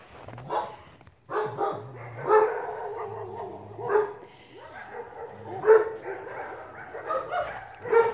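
A small fluffy puppy barks and yips repeatedly in the snow, interspersed with whimpers, fairly close, with no voices.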